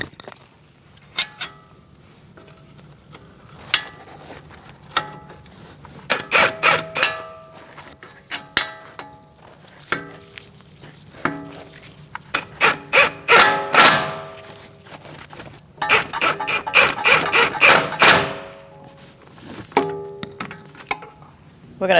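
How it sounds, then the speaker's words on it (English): Metal clinks, clangs and ratcheting clicks come from strut bolts being snugged onto a 2002-2006 Toyota Camry front steering knuckle. The irregular bursts of tool and bolt noise are close and sharp, with denser runs of rapid ratchet clicks. "Now we're going to snug up our bolts for our strut."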